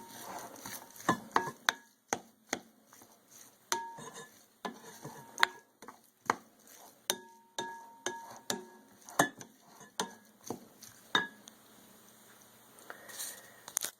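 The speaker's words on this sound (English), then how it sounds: "we want to start mixing the spices in to the sausage" Spices being mixed by hand into raw sausage meat in a bowl, giving a series of soft, regular squelching and slapping thumps roughly every half second, close and fairly quiet, with no talking.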